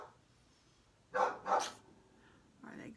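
Dogs inside a home bark while squabbling over a bone: two loud barks in quick succession, then a quieter yelp a moment later, heard alone in a quiet room.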